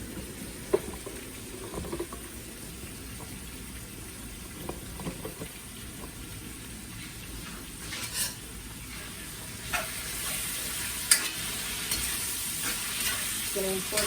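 Chicken with Thai holy basil stir-fried in a wok for spicy pad krapow gai: a steady close sizzle with scattered scrapes and clinks of the spatula, and no talking.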